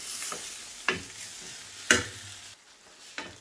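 Minced meat cooking in a pan over medium heat, a steady soft sizzle with a few sharp stirring scrapes and knocks against the pan, close and fairly quiet, with no talking.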